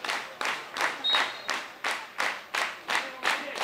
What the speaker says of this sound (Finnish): Harjun yleisö innostuu.